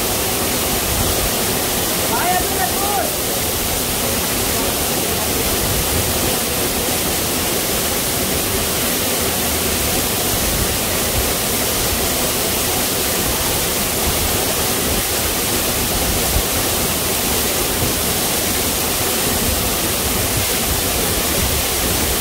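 A jungle waterfall in Malaysia pours and splashes over someone showering beneath it, a loud, constant rushing roar that fills the whole stretch without pause.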